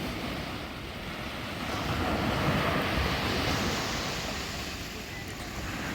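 Storm surf and strong wind on the sea shore at Odesa: a continuous loud roar of breaking waves with heavy wind buffeting the microphone, swelling in the middle and easing slightly, no voices.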